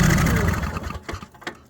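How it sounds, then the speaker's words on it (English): An Ingersoll plow tractor engine catches on starter fluid, a loud burst of rough firing that sputters and fades into a few uneven coughs and pops within two seconds. "it fired over on starter fluid"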